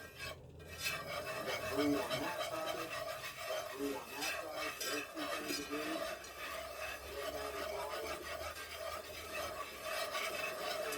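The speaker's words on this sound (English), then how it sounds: "So I'm going to mix this up really well." Ingredients for a sugar-free Southern chocolate gravy being mixed in a bowl, giving a steady scraping, rasping churn of utensil against the bowl that runs throughout at close range, with faint background hum and no talking.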